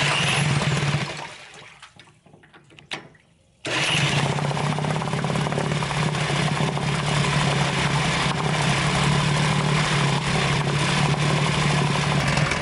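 A Western Auto 5 hp outboard boat motor runs steadily with a loud, continuous drone and a strong low hum. It drops off and goes quiet briefly early on, then picks back up and holds a constant running note with no talking.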